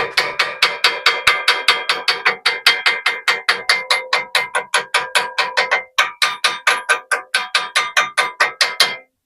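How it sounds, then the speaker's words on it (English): Rapid, sharp metallic strikes of a chipping hammer chipping flux off a weld, loud and close, in a fast steady rhythm with one brief pause midway. "Now I have to chip off the flux. So I'll grab my chipping hammer"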